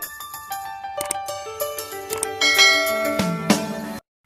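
Notification bell sound effect: a quick cascade of bright chiming tones stacking into a ringing chord, ending abruptly, loud and alone.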